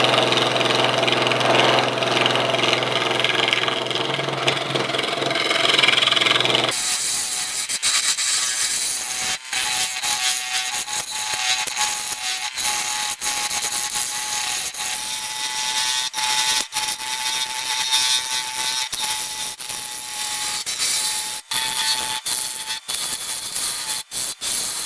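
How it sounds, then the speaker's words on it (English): Resin and cherry wood bowl blank spinning off balance on a wood lathe, a steady loud whirring hum with rough rubbing and scraping from the cutting tool, punctuated by brief knocks and rattles, with no talking. "wondering why it's rattling and rolling and all this stuff, because it's off balance"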